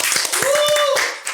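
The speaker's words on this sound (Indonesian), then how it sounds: "Boleh dong tepuk tangannya." Hands clapping for a guest on an Indonesian school podcast, a short burst of close, uneven claps with a sustained whistle-like tone running through the middle.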